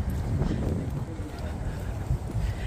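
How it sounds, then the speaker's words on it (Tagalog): Strong wind buffets the microphone in rough, rumbling gusts at Dunham Massey park, loud and continuous throughout. "Mahangin, kaya malamig."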